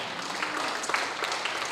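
Church congregation applauding during a worship service, a dense, steady wash of many hands clapping together at moderate loudness, filling the room without a break, with no talk.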